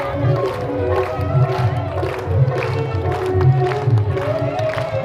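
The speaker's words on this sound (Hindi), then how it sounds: "जितनी भीड़ पंडाल के अंदर है उससे कहीं कम भीड़ बाहर नहीं है।" A large crowd of devotees gathered outside the Vishwanath pandal at Kashi, a steady murmur of many voices with a few louder swells, close and continuous throughout.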